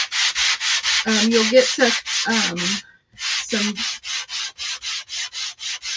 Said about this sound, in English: you can sand these all the way down